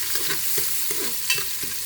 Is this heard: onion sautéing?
yes